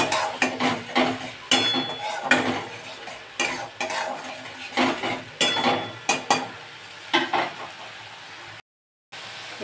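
A spoon stirs tomato paste masala in a hot pan, with repeated scraping and metal clinks over a steady sizzle, close and fairly loud, broken by a brief silent gap near the end.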